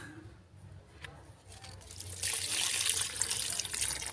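Water runs from a small container onto strawberry plants, starting as a faint trickle and then swelling into a steady hissing pour that continues to the end.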